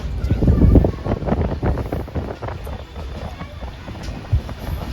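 A train from Mumbai towards Vapi rumbles along with continuous low clatter and wind-like noise, a voice briefly audible over the rolling sound.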